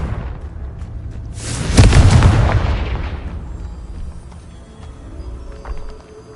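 A Confringo fire spell bursts in Hogwarts Legacy, a loud booming blast that erupts suddenly and rolls off into a fading rumble over a low ambient game background.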